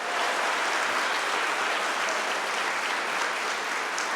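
Audience applause at a TEDx talk held at Attica prison: a thick, continuous roar of many hands clapping together, loud and even from start to finish with no talk over it.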